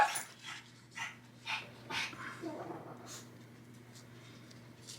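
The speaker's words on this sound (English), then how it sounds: "I'm not quite sure what that little one is barking about," A small dog barks indoors in several sharp, separate yips spread across the first few seconds, moderately close, over a low steady hum.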